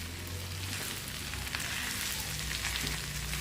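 Mashed potato mixture with coriander, asafoetida and lemon juice sautéing in a pan for bread pakoda filling, a continuous close sizzle with a low background hum.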